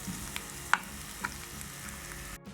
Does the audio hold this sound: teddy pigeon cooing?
no